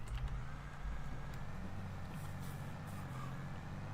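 A truck drives in the video game Farming Simulator 22, its engine rumbling low and steady throughout, fairly quiet, with no talk.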